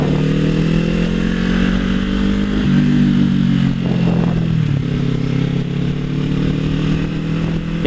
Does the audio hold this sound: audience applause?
no